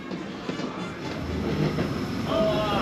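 Train at Tokyo DisneySea rolling past with a low, steady rumble and faint clatter, a thin squeal rising near the end, with some crowd noise and voices in the background.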